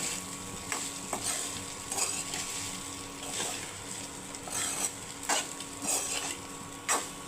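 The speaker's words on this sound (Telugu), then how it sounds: "ఉప్పు, మిరియాల పొడి బాగా కలిసేలాగా అన్నానికి పట్టేలాగా మంచిగా కలిపేసుకోవాలి." Jeera rice being stirred with salt and pepper powder in a pan, a steady soft scraping and stirring with light sizzling and occasional sharp utensil knocks against the pan, close and moderately quiet.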